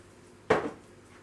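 A dessert spoon scoops a heaped portion of peanut butter, giving a single short clink and scrape against a jar or bowl, close and fairly quiet, with near silence around it.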